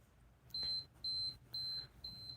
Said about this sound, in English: The timer of doom.